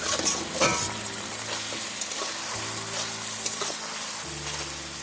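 Ginger, cumin and garlic paste masala frying in a pan for a Bengali egg masala curry, a steady close sizzle with soft stirring scrapes and occasional spoon taps throughout.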